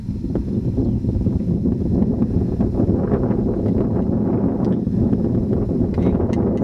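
Wind buffeting a microphone on a paragliding launch slope at the Lomonds in Fife, a constant low rumbling roar that stays steady throughout.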